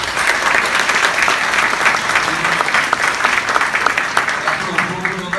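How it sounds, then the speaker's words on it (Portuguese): Loud, sustained applause fills a university hall at an honorary doctorate ceremony as the crowd claps for the university council, a continuous dense patter with faint voices mixed in underneath. "pedir uma salva de palmas para o Conselho Superior da Universidade"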